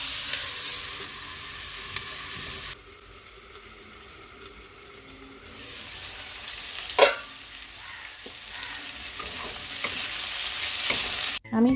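Vegetables seasoned with salt and turmeric cook in a pan, a close sizzle and stirring that drops to a quieter simmer partway through, with a few sharp clinks and scrapes near the end.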